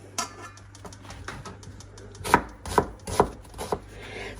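A knife cuts an onion into half rings, not too thin, with a close, irregular run of crisp taps on a board. Several sharper, louder chops land in a cluster toward the end.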